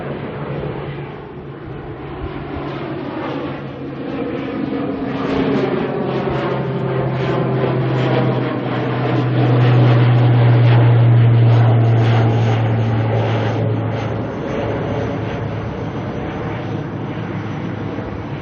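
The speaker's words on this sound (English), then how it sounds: "ATR's taken off in frozen prop mode." An ATR turboprop airliner climbs out on takeoff, a loud droning propeller roar that swells to a peak midway and then slowly fades, heard from a distance with no talk.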